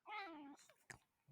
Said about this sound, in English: his meow is just so pathetic sometimes